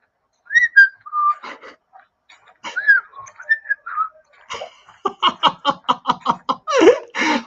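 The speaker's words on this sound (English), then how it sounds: "Humble's walking about whistling in the dark." A man whistles a wandering tune while walking about at night, the melody clear and close, then giving way to a run of short rhythmic bursts that sound like snickering laughter.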